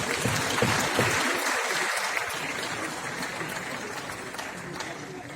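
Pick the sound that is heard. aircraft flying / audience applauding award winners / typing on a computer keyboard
audience applauding award winners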